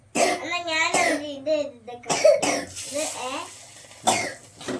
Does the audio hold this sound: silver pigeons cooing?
no